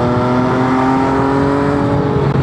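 MV Agusta 800 Dragster limited-edition motorcycle being ridden, its engine giving a loud, close, steady drone with a constant pitch and a whooshing rush of wind over it.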